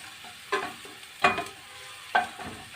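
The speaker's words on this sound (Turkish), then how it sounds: "soğanlarımı kavuruyorum pembeleşesiye kadar" Onions fry in a pan for bulgur pilaf with a steady soft sizzle, and a spoon stirs them in three or four distinct scraping strokes.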